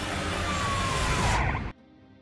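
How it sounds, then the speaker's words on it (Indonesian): A police siren in a film scene, wailing steadily and loudly with a faint falling sweep, then cutting off abruptly near the end to leave a quiet low background. "Terdengar suara sirine polisi dari kejauhan mendekat ke arahnya."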